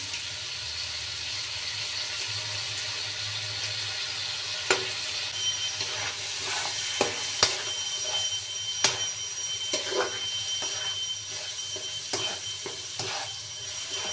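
Lentils and a bunch of chopped coriander leaves fry in oil for a bottle-gourd dal, a steady close sizzle with intermittent scraping clicks of a spoon stirring the pan.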